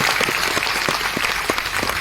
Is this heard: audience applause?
yes